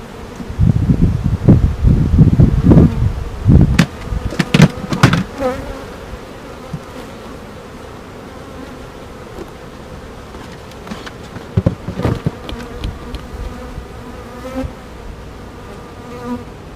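Honeybees swarm and buzz around an open beehive during an inspection, loud and close in the first few seconds, then thinning to a quieter, scattered hum with occasional single bees passing near.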